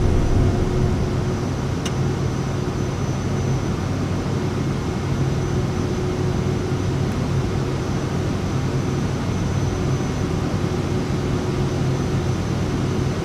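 A Cirrus Vision Jet G2+ single-engine personal jet on its takeoff roll and rotation, heard from inside the cabin as a steady, loud, unbroken broadband roar with a faint high whine.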